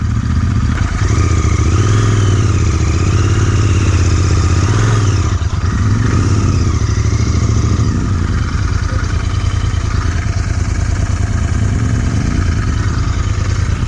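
A Royal Enfield Interceptor 650 motorcycle revs off-road, its engine loud and close, rising and falling through repeated throttle blips over a steady mid-pitched drone with some mechanical clatter.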